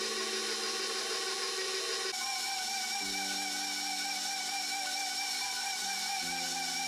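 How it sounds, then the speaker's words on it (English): A stand mixer with a dough hook kneads sourdough cinnamon roll dough on its second speed, giving a steady, loud motor whine whose pitch steps up and down a few times, with no voices. "I'm gonna put this on my stand mixer with the dough hook and let this on speed, on like the second speed."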